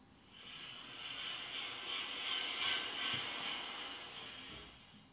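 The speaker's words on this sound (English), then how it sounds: "We see the target is train passing, which is what we want" A train rolls past with a high metallic wheel squeal and rushing rumble, swelling from faint to moderately loud and fading out again over a few seconds.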